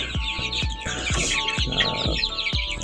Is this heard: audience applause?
no